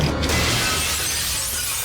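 Glass shattering in a scene from the TV series Fringe: a loud, sustained crash of breaking glass lasting nearly two seconds, with shards tinkling and scattering under a steady wash of noise.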